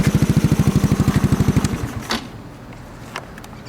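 A SYM HD 200 scooter engine with an MRP free-flow exhaust pulses in a fast, even, throaty idle, then dies away within two seconds, leaving a quiet background with a couple of faint clicks.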